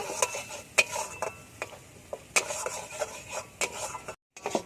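A utensil stirs and scrapes mustard-poppy seed paste and spices in a pan while cooking bitter gourd, with irregular clinks and scraping strokes close by, then a brief pause near the end.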